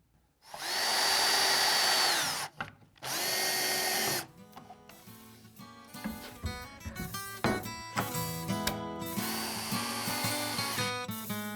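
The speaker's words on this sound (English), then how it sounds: "Then it's just a matter of driving in the screws." A power drill drives screws into pocket holes joining wooden sections of a pull-out pantry, two loud steady whirring bursts followed by clattering and scraping of wood handling, no speech.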